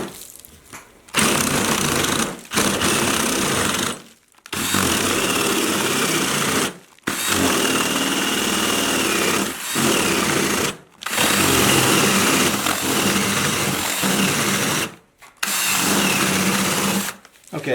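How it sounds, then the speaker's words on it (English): A cordless drill with a lithium battery bores a hole about 3 inches deep into a wooden block, whirring loudly in long sustained bursts separated by brief pauses. "you want to drill down right down the middle about 3 inches"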